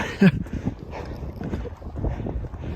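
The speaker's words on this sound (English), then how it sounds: "it's super breezy" Steady wind on an icy Appalachian mountaintop near Clingmans Dome buffets the microphone with low, rumbling gusts, loud and continuous throughout, with a brief thump near the start.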